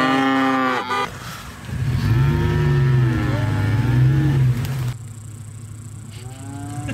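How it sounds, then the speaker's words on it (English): Cattle on a farm, a cow with calves, low drawn-out moos close by, one long bellowing call swelling through the middle, with engine noise in the background and no talk. "we were trying to push this one cow and calf in"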